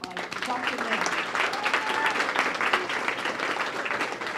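Round of applause from the audience at Boston Medical Center's Fall Fête gala, dense steady clapping filling the room throughout, with faint voices mixed in.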